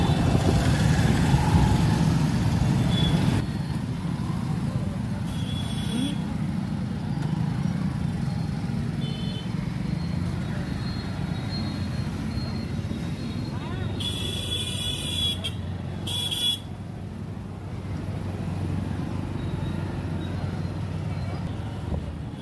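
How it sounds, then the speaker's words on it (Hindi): Busy street traffic in Khalilabad, with engines rumbling and idling and several short horn toots, while someone talks over the steady road noise. "तो भाई खलीलाबाद की ट्रैफिक अभी दिखाते हैं"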